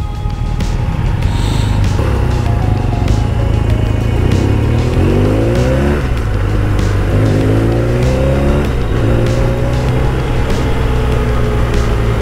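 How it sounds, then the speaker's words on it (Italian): Car on a motorcycle tour through Croatia and Bosnia and Herzegovina driving with a loud continuous engine drone, gear changes causing rising and falling pitch sweeps, gradually easing off as it slows. "fermo la macchina"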